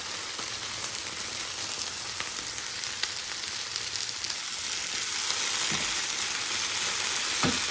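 Sliced okra fries in a pan, giving a continuous close hiss and sizzle that grows slightly louder toward the end, with a brief stir near the close and no voices.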